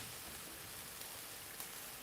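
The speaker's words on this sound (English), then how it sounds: "It's raining." Rain falls steadily as a soft, even hiss with faint scattered drip ticks, quiet and continuous throughout, with no voices.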